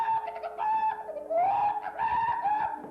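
A stage actor voices squawking barnyard fowl, mimicking chickens, turkeys, geese and ducks with loud, warbling clucks and cackles in several bursts from a live theater performance of a musical.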